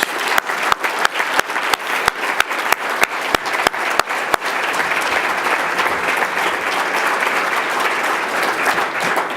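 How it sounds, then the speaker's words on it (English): Loud applause for six honorees at a teacher awards ceremony, opening with sharp separate claps over the crowd before swelling into dense, steady clapping that carries to the end. "let's have another round of applause for all 6"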